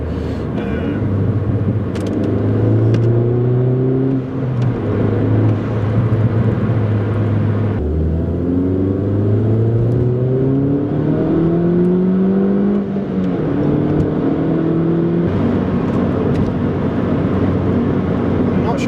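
An R56 Mini Cooper S fitted with an Alta blow-off valve accelerates through several gears, its engine note climbing repeatedly with drops at each shift, heard from inside the car under a voice talking.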